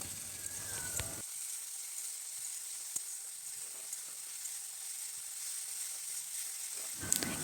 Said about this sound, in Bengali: তারপর মশলাটাকে ভালোভাবে কষিয়ে নিতে হবে।